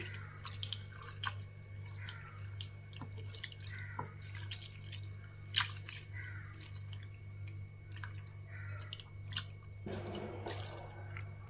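Thin flattened rice (aval) swished and rinsed in water, with soft drips, trickles and sloshing splashes scattered through the stretch and a steady low hum beneath, a louder pour near the end.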